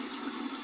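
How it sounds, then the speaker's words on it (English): Cold water runs from a tap over an adjustable safety razor, a soft, even rushing hiss that holds steady throughout with no voices. "we're going to go ahead and run this under some cold water"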